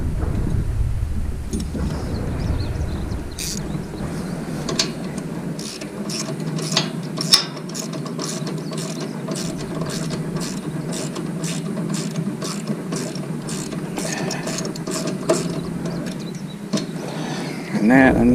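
Ratchet tightening a nut on a lightning-damaged Liftmaster gate opener outdoors, a long run of quick, evenly spaced clicks going on steadily at close range over a low background rumble, with no talk.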